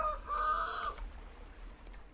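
A chicken in the Vintage Story video game gives a short, bright call lasting under a second, then only faint low background noise follows.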